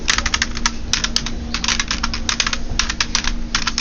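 Rapid, continuous typing on a computer keyboard while entering SQL Server commands, with crisp, close key clicks in quick bursts and short pauses, loud and clear over a faint background hum.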